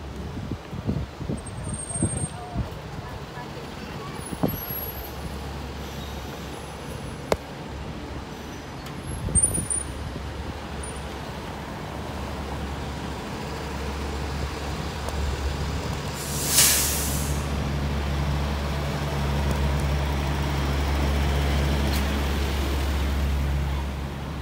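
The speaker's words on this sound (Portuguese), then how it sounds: "O guincho levando um carro, galera." A tow truck carrying a car along Lincoln Road, a shop-lined street in Miami, its low engine rumble swelling over steady traffic noise, with a brief sharp hiss midway and faint voices in the background.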